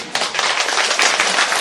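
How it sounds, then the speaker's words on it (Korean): A seminar audience in Beijing breaks into brief, loud applause, with close, dense clapping that stays steady throughout. "여러분의 이 모든 박수를 예수님께 올려드립니다."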